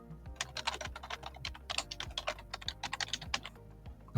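Fast, close typing on a computer keyboard, a steady run of crisp key clicks while a workflow node is renamed, with no voices.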